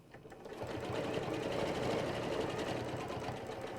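Sewing machine stitching steadily through a quilt guided by a back-to-back ruler template, a continuous close mechanical whir with rapid needle rhythm running the whole time.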